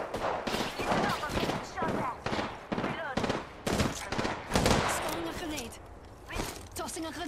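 Rapid bursts of video game gunfire crack in repeated volleys, loud and close, with a voice speaking over and between the shots.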